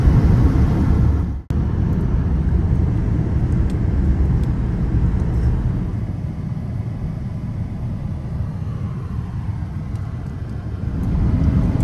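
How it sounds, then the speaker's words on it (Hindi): Continuous road traffic rumble heard from inside a moving car on Dundas Street toward Niagara Falls, Ontario, a loud steady low roar with a brief dropout near the start, no voices. "ज़्यादा ट्रैफिक है।"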